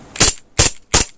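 Three sharp, loud shots from an Aftermath M9 CO2 blowback pistol fired semi-auto, evenly spaced about a third of a second apart, each a crisp crack with the slide's metallic snap, close and alone.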